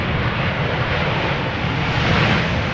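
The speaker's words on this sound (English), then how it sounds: "Low-key wheelie by the 737 pilot. And a KLM style landing, keeping up the speed" A Boeing 737 jet landing at Amsterdam Schiphol Airport, heard as a loud, steady, broadband engine roar from close by, swelling slightly toward the end.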